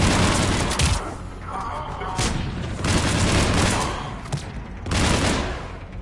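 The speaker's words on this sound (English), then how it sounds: "Commander, we're getting a lot of mortar fire." Mortar fire in a PS4 war video game: heavy, rumbling blasts and crackling bursts follow one another densely across the whole stretch.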